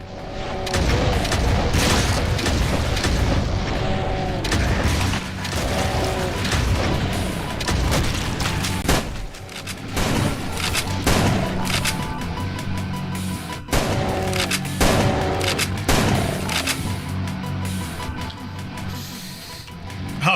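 Dense, continuous game combat from a Doom mod: rocket blasts booming over rapid gunfire, loud and unbroken throughout with sharp bursts punching through the mix.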